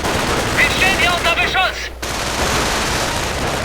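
Rifle and machine-gun fire crackles steadily through a WWII video game battle between German and American riflemen, dense and loud throughout, with a brief synthetic voice-like sound early on.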